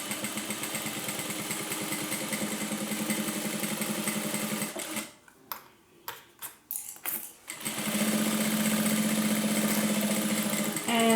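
A domestic sewing machine stitches across the bottom of a crossbody handbag, a fast steady mechanical whir that stops for a few seconds of quiet handling and clicks while the fabric is turned, then resumes, close and clear.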